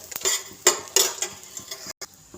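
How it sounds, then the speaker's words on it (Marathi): Red chillies roasting in a little oil in a pan over low heat bring uneven bursts of close scraping and stirring against the metal pan, with a faint sizzle between strokes and no talking. "आता यावर आपण मिरच्या भाजून घेऊया"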